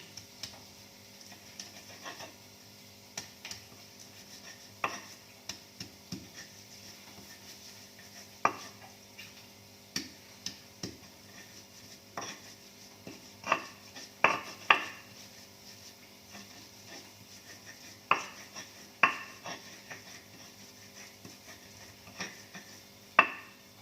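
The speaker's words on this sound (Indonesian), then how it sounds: "Jadi Umay Dayak ngulek kunyit ya" Turmeric being pounded in a mortar and pestle while preparing a Dayak Ngaju dish, irregular sharp knocks and scrapes, some in quick clusters, fairly close but quiet against a low background hum, with no one talking.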